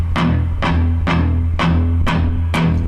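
Electric guitar power chords from a song's verse, fretted with the middle finger, struck six times in an even rhythm, each a loud, full, sustained chord close up with no talking.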